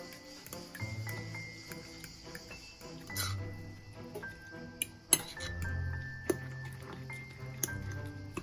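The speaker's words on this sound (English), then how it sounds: "And I will mix everything together" Baking powder, cinnamon and salt stirred together in a bowl for banana oat muffins, with light clinking of a utensil against glass and soft scraping, close and intermittent, with a faint music-like tone underneath.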